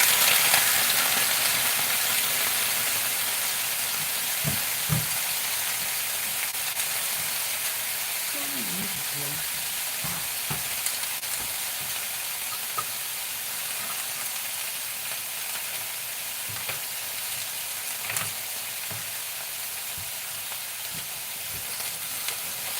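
Potatoes frying in a hot cast iron skillet give off a continuous close hiss and sizzle, with occasional clicks and scrapes and brief faint voice sounds, slowly fading in level over the stretch.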